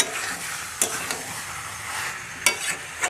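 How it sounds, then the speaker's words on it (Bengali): Chicken curry meat being stir-fried with fried potatoes in a pan, a steady sizzle with a few sharp scrapes and clanks of the stirring utensil, close and alone. "আলুটা মাংসের সঙ্গে মিশিয়ে দেব আর ভালো করে মাংসটাকে কষে নেব।"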